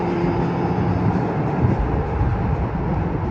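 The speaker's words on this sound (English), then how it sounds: "And there's the train going over." A steady, loud rumble and rattle of a metro train rolling past on a nearby track, continuous roar throughout with no talking.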